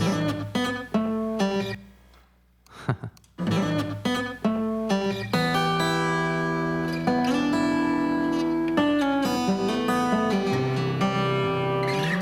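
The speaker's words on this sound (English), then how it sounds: "So the guitar will be recorded in a similar fashion" An acoustic guitar strums a steady four-on-the-floor rhythm on clear, ringing chords. A short gap falls early on, then the playing continues close and unbroken.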